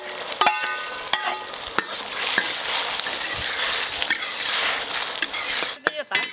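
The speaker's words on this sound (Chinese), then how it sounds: "加点油炒蛋。" Beaten eggs scrambling in hot oil in a pan for a chive pocket filling: a steady close sizzle broken by sharp clicks and scrapes of the spatula, with no talking.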